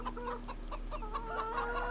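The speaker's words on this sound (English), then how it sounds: "These chickens are really loud." Chickens in the Farming Simulator 17 video game cluck steadily and loudly from a placeable chicken coop, with repeated close, busy calls.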